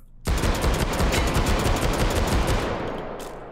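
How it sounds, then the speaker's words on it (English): Twin Desert Eagle pistols fire in rapid succession inside the VR game Hot Dogs, Horseshoes & Hand Grenades, a loud, dense burst of overlapping booming shots lasting about three seconds before tapering off. "It's always fun dual wielding double Desert Eagles."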